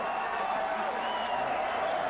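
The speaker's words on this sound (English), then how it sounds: "The biggest cheer for Bob Mirovic there as he raised his hands." Boxing arena crowd cheering for heavyweight Bob Mirovic after his bout with Nikolai Valuev, a steady dense roar of distant voices and applause filling the hall without break.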